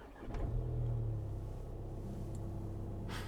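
A Skoda Kodiaq diesel engine starts up and settles into a low, steady idle rumble close by, with no talk.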